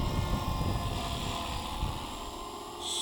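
A scale model helicopter hovers and flies gently nearby, its steady rotor whir and motor drone holding at a moderate level with no voices.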